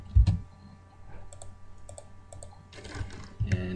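Computer keyboard keys tapped in short scattered clicks, with a brief flurry near the end, close and fairly quiet.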